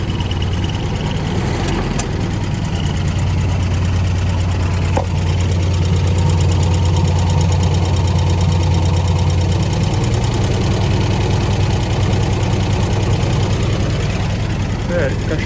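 A Willys CJ2A Jeep engine, started with a little choke in a garage, runs at a steady low idle with a rough, even throb that shifts slightly partway through, while someone talks over it.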